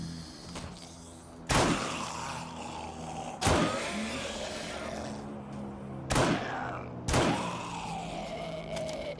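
Heavy, booming thuds as a zombie strikes a wall four times at uneven intervals, each leaving a short echoing rumble over a steady low drone in the game 7 Days to Die.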